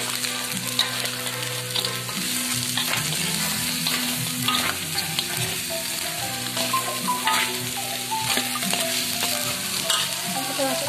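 Crab stir-fries in a pan with fragrant spice paste, giving a constant close sizzle broken by scraping and stirring clatter, with no talk.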